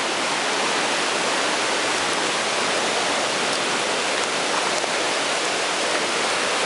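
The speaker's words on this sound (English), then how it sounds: "Go down to the waterfall." Constant roar of a waterfall, loud and close, a dense, steady wash of falling water with no pauses or other sounds.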